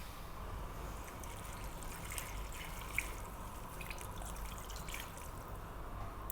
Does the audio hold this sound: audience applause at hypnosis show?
no